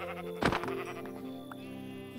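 A sheep in the video game Minecraft lets out one loud, close, wavering bleat over quiet background game sounds, with another call just starting at the very end.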